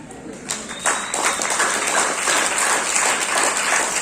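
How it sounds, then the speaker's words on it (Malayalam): An audience claps throughout, a dense, loud wash of many hands rising quickly after the first half second and holding steady to the end, with no talking over it. "കയ്യടി ഓൾക്കൊടിക്കുന്നത്"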